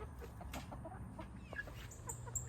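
Young chickens in a coop clucking softly, scattered short calls and faint peeps close by over a low background rumble.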